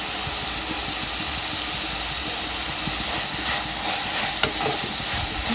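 Chicken with capsicum frying and being stirred in a pan, a steady loud sizzle running throughout with the scrape of stirring and a brief clink near the end.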